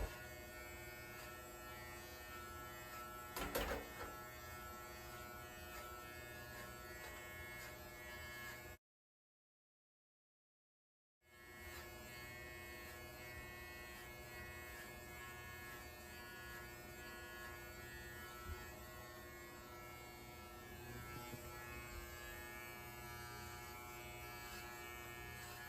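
Electric hair clippers fitted with a Hairpoon fade guard run as a steady, close, continuous buzz throughout, with one brief cutoff of silence midway before the motor hum resumes.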